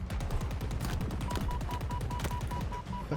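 Rapid automatic gunfire from a weapon in the video game Halo Infinite, a dense continuous stream of fast shots that runs the whole stretch, with a faint electronic tone pulsing partway through.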